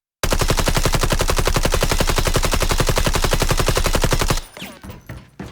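Automatic weapon in the Delta Force extraction shooter fires a loud, fast unbroken burst for about four seconds, then cuts off, leaving only faint scattered sounds.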